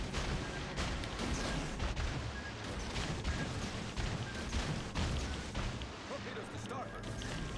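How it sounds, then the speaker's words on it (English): Heavy, continuous booming and crashing of torpedo impacts on a beach in the naval game World of Warships Legends, a dense rumbling barrage with sharp hits layered throughout, loud and close. "Listen to the torpedoes hitting the beach."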